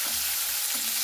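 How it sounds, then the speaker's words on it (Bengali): Onions frying in oil left from frying fish, a dense, even sizzle with faint stirring, close and steady throughout. "পেঁয়াজটাকে খুব সুন্দর করে লাল লাল করে ভেজে নিতে হবে"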